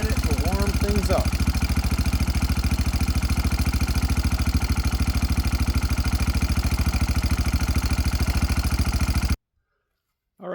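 A Honda TRX 300EX ATV engine idles while warming up, a steady, rapid low-pitched putter with light mechanical clatter that runs unbroken and then abruptly stops near the end.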